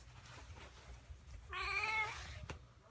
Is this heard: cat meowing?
yes